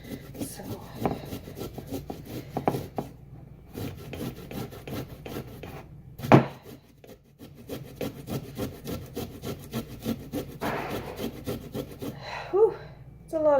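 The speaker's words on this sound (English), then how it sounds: "it's a lot of grating" Fresh ginger being grated for tea produces repeated scratchy rasping strokes, close and fairly quiet, in an uneven rhythm with brief pauses between bursts.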